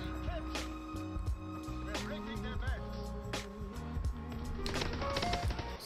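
Gunfire in the WWII shooter Call of Duty: WWII, with rapid bursts of submachine gun shots over busy game sound and music, heard at moderate level throughout.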